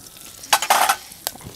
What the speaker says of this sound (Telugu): కరివేపాకు కొంచెం చిట్టుపట్టలు ఆడుతున్నప్పుడు చిటికెడ పసుపు.